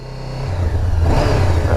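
A 2016 Honda CBR 500R motorcycle engine revs up nearby, its loud mid-pitched drone climbing in pitch and intensity over a second or two with no talk.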